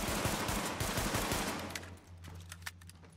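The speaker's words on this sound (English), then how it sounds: "I'm just going to pull the trigger as fast as I can to see the recoil pattern." Rapid pistol shots from the Damascus handgun in The Division, a tight burst of sharp cracks in the first second and a half, then a few scattered shots fading over a low hum.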